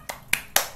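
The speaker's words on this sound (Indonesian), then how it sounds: "apabila saya bilang tepuk semangat" Three sharp, separate hand claps in a steady rhythm, close and clear, from a class following a teacher's clap chant during an online lesson.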